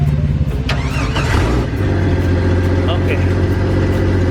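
A Toyota FJ40 engine cranks and fires, then settles into a steady, loud idle that continues to the end, with a voice speaking briefly over the start.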